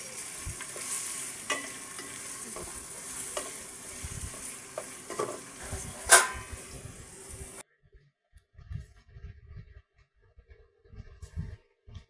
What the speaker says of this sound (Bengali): হাঁড়িতে পেঁয়াজ কুচি দিয়ে আমি এখন সুন্দর করে পেঁয়াজগুলো ভেজে নিব লাল লাল করে।